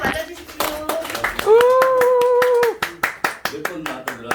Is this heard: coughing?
no